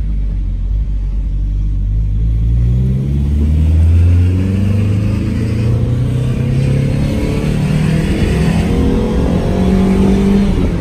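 The new engine of a 1995 Dodge Neon Sport Coupé with manual transmission hums and rises in pitch as it revs through the gears, a loud steady rumble heard from inside the car.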